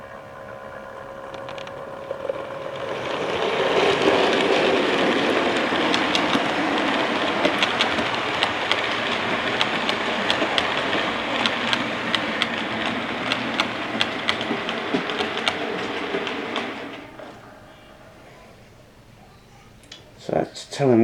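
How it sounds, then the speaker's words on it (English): Model train running past a trackside signal on a layout, a steady rolling rumble with light clicking that lasts about fourteen seconds and then stops, leaving near silence before a brief handling noise at the end. "let's put the train past the signal"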